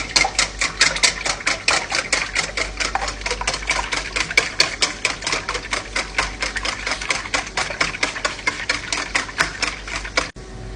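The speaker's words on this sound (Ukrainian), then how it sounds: "І збиваємо їх." Eggs being whisked rapidly in a bowl, a fast, even run of sharp ticking strokes from the whisk hitting the sides, close and loud, with no voices.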